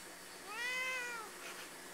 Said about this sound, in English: Big fat kitty.